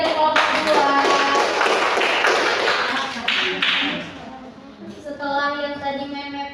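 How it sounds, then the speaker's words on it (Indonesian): Students in a classroom clap for a classmate, a few seconds of close, brisk clapping and tapping that dies away as a voice resumes speaking. "tepuk tangan untuk Vivi dari kelompok 2."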